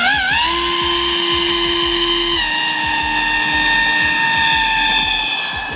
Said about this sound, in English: I've never driven an airboat on a frozen lake before.